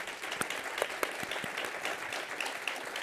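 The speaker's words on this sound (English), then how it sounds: "can we have a round of applause for our panelists" An audience at a sustainability and innovation forum gives steady applause for the panelists, a dense patter of many hands at moderate distance with no talking over it.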